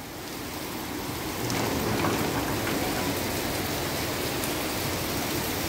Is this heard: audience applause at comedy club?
no